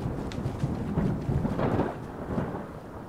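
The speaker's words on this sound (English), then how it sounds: "Hopefully the rain is not too loud." Rain and rolling thunder in the video game Fallout 4 fill the scene: a steady hiss of falling rain under deep, rumbling thunder that swells and fades in waves, loud and continuous without any speech.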